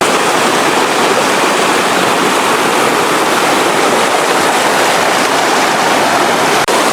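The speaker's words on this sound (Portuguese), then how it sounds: "E aí tem, ó, mais cachoeira pra lá, pra cá." Powerful waterfall rushing at a tropical river, a loud, steady roar of falling and churning water that fills the scene continuously, close by with no talking.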